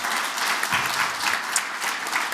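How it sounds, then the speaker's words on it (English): Warm audience applause at an economic and trade forum, loud dense clapping sustained throughout the short stretch with no talk. "So let's have a big warm round of applause."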